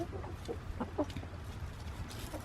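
Young backyard hens about 21 weeks old cluck and chirp in soft, irregular bursts at close range over a low, quiet background, with no talking.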